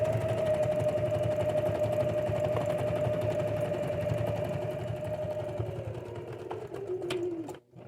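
A sewing machine running a continuous stitch diagonally across a pot holder, a steady close whirring hum that slows and winds down at the end, with a few small clicks.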